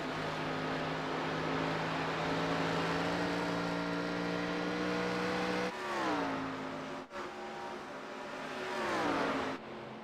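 Throwback-style stock cars race at Dover International, engines droning loudly with sustained pitched tones that bend and shift as cars pass close by, one following another in a tight battle.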